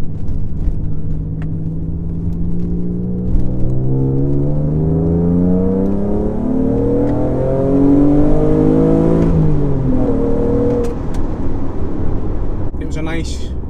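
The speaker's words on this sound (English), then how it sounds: "I'll see if I can give it a few revs up here" Alfa Romeo with an intermittent ECU fault revving up under load while driving, the engine note climbing steadily through several gears with a clean rising drone, close and loud inside the cabin, then easing off near the end.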